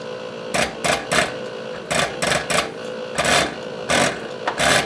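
Rhythmic bursts of a sharp, hissing spray repeat in quick pulses, loud and close, from a fuel injector nozzle firing on a tester with a good spray pattern but pressure too low.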